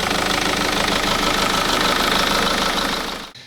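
A BMW car engine idles steadily and close up, with a continuous mechanical rumble and a light knocking rhythm, running alone for about three seconds before cutting off abruptly.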